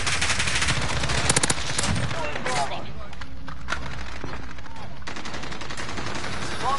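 Rapid bursts of AK rifle gunfire in the Call of Duty video game, loud sharp cracks in quick strings at first, then sparser shots and lighter clicks over steady game background noise.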